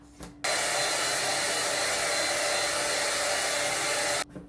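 A hair dryer blows steadily at close range to dry white clothes, switching on abruptly and running at a constant loud whoosh for about four seconds before cutting off.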